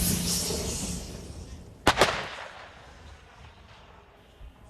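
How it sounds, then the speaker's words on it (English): Ukrainian army artillery firing on Russian forces in eastern Ukraine, a single heavy boom with a quick double report over steady outdoor background noise, then a fading rumble. "We went with Ukraine's army to see artillery already firing on Russian forces"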